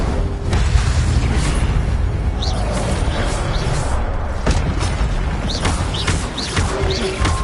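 Fiery spell bursts from the Incendio charm in Hogwarts Legacy, a dense roaring crackle with sharp pops and whooshes over a loud, continuous game soundscape, with no pauses throughout.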